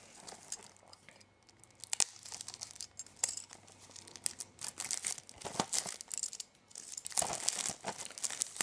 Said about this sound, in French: Donc je vais le déballer.